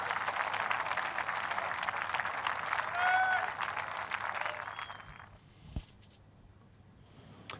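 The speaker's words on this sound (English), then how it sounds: "Big cheer for the Ryder Cup captain." Golf gallery at The Open Championship at Royal Troon applauds and cheers a birdie, a sustained roll of clapping that fades after several seconds, with a commentator's voice over it.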